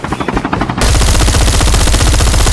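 Call of Duty gunfire starts as a rapid stutter of shots, then bursts into a loud, dense, continuous automatic stream that fills the rest of the clip.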